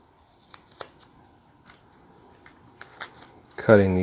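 A few sharp snips spaced apart as pushback wire is cut to size while wiring a guitar pickguard, quiet and close, with someone speaking briefly at the end.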